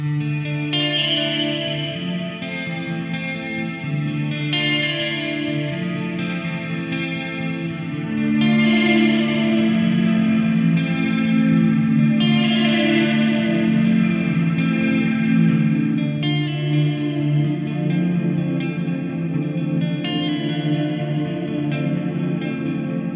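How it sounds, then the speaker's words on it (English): Electric guitar chords through a Tank-G Playwell ring out drenched in spacious reverb and shimmering effects, steady and continuous with no voices. "Here's what the reverbs sound like."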